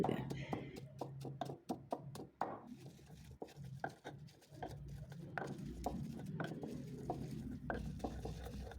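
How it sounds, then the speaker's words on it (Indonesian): Spices for a village vegetable dish are pounded and ground in a stone mortar, with a steady series of sharp knocks and scraping strokes; someone talks over the work. "ini Mbok menghaluskannya dengan lesung batu"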